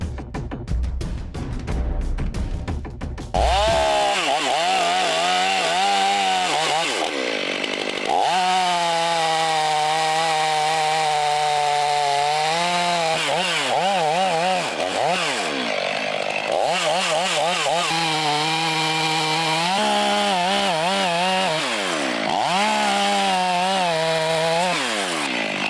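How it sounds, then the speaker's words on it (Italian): Chainsaw cutting into a tree trunk during careful tree felling, starting with a rough idle then a loud, steady high-revving whine that bogs and rises repeatedly as it bites into the wood, close and continuous. "in base alla resistenza che mi fa la motosega ad entrare e alla segatura che viene fuori"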